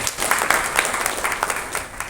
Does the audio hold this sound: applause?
yes